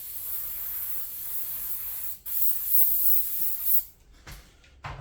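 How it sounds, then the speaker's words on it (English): An aerosol can of Inox lubricant sprays a jet onto a rifle barrel, giving a steady close hiss of about two seconds that is followed by a few short puffs. "I like this inox so far, but the thing needs to be more of a spray than a jet."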